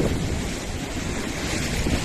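Surf breaks on black lava rocks at Playa los Pinos on the Gulf of Mexico coast of Veracruz, a loud, continuous roar of crashing water mixed with wind rumble.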